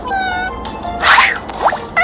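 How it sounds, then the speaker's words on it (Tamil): A cat monster in the video game Negamon Monster Trainer gives a short meow-like cry with a sweeping, rising tone, set among other game sound effects and brief tonal blips. "பூனை போக்கிமான்"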